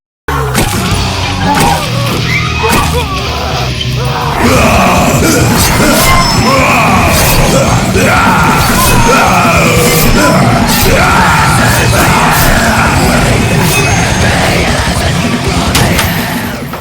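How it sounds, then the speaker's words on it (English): A Halloween prop plays loud, continuous screaming and yelling effects, layered wails and groans at high volume throughout with no pauses. "I love all the screaming and, like, all that sound effect"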